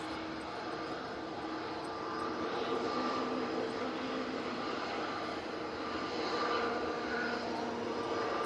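A TUI airliner in plain white livery departs for Kavala in gusty wind, its jet engines giving a steady, broad roar that swells slightly midway and holds loud throughout with no voices.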